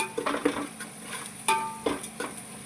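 Onions being fried for chicken biryani, stirred in a pan: a few close scraping and clinking strokes of a spoon against the metal over a soft sizzle, with no voices.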